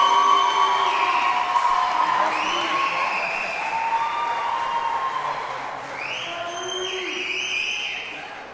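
Applause for graduates at the 2018 Iowa Wesleyan University commencement, a steady wash of clapping from a large crowd with scattered cheers and whoops that holds for several seconds before easing slightly.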